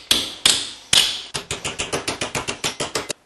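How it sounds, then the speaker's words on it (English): A high crown hammer strikes metal in a carved stump bowl to flatten it, starting with three heavy ringing blows and then a quick run of about a dozen rhythmic, bright metallic taps, loud and close. "I'm going to use my high crown hammer and this bowl to try to flatten this out a little bit."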